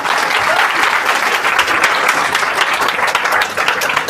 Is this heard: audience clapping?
yes